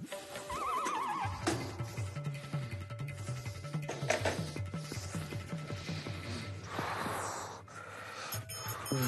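A horse neighs and whinnies repeatedly in a loud, close burst, with snorts, breathing and hoof clip-clop mixed in over a continuous low rumble.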